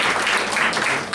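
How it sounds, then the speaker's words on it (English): Short burst of audience applause at a university white coat ceremony in Dominica, a dense wash of many hands clapping, fairly loud, with no voices. "Please, a round of applause once again for yourself."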